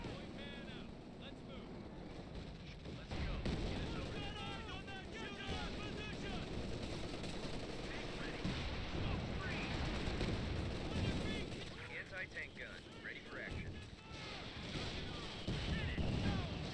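Tank cannon fire and other gunfire in the WWII strategy game Company of Heroes 2, a 75 millimeter gun among the guns, with repeated booms and rumbling battle noise that runs steadily under ongoing talk.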